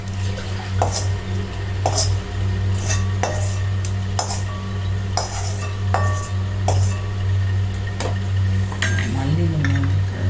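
A utensil scrapes and clinks against a pan while paneer pepper fry is stirred over a steady low cooking hum. The taps come in an irregular rhythm, close and fairly loud, with a little faint sizzling underneath.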